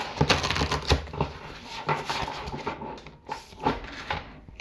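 Tarot cards being shuffled and drawn, a quick series of close, light papery slaps and flicks in an irregular rhythm, fairly quiet with brief pauses between bursts.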